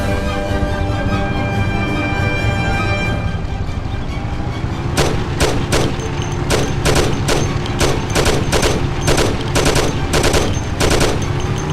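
A Thompson submachine gun fires in the video game Mafia as a series of sharp bursts and single shots in the second half, loud and close, over a constant engine-like drone and music.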